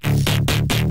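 Heavy, loud bass synth patch built on a saw oscillator and run through Redux downsampling, giving gritty digital artifacts; four thick, pulsing notes repeat in steady rhythm before cutting off abruptly.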